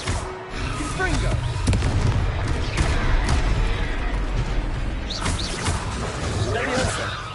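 Repeated fire-spell explosions from the Confringo curse in Hogwarts Legacy, booming blasts landing in a busy, dense stretch of combat with a voice speaking over them throughout.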